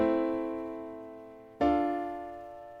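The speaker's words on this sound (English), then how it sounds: "So this is called the 1-4 chord progression." Two sustained piano chords, a I-IV progression, one after another: the first rings and fades, then a second chord strikes and decays, played alone.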